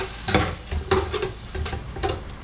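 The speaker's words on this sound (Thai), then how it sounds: "เอากระดูกอ่อนหมูเนื้ออ่อนเนื้อหมู กระดูกอ่อนแล้วก็เนื้อหมูมาผัด" Pork cartilage and pork meat being stir-fried in a pan, with a close sizzle under repeated quick scraping and tossing strokes of the utensil against the pan in an uneven rhythm and no speech.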